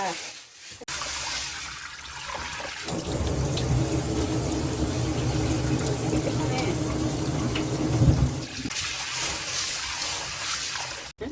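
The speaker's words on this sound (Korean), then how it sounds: "팥을 이렇게 깨끗이 씻어가지고요" Red adzuki beans being washed clean in water before cooking in a pressure cooker, with a steady rush of running water and sloshing for several seconds, close and continuous, faint background speech underneath.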